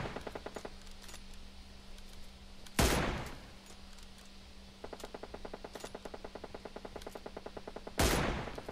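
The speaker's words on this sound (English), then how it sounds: "So you're running and shooting at the same time." Automatic gunfire in PUBG Mobile while the character runs, rapid bursts of shots fired in quick rhythmic streams, broken by two loud sharp blasts, with no voices.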